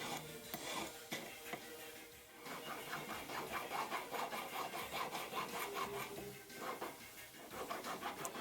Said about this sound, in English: file this off.